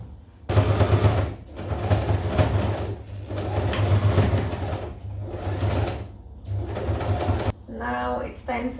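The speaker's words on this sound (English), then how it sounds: "So I'm just going to sew this round now and come back to show you guys." A sewing machine stitches the fly seam of a trouser in several bursts of rapid mechanical whirring, each a second or two long, separated by short pauses. A voice is heard briefly at the end.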